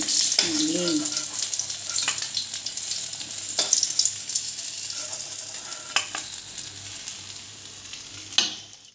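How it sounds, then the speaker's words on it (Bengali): Whole fish, rohu, frying in hot oil in a pan, a steady close sizzle and crackle with occasional stirring clinks and a sharper splutter near the end. "আরও 3টে মাছ ভেজে নেব।"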